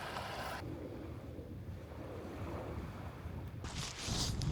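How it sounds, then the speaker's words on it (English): Wind buffets a microphone along a sandy, clay-edged coastal path between Cowes and Thorness Bay, a steady low rumble throughout with a brighter gust near the end. "It's a little bit windy."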